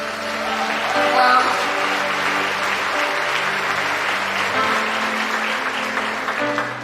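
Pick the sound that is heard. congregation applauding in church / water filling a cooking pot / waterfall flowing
congregation applauding in church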